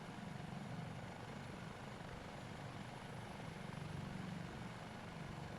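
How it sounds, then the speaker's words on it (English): A Dauphin helicopter in a flight simulator game keeps up a steady rotor thump and turbine whine, loud and continuous from start to finish, with no other sounds. "it is a gorgeous helicopter"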